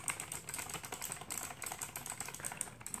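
Loud, rapid clicking of a G-Net K2800 mechanical keyboard with blue switches, dense keystrokes typed continuously and close-up with no talking.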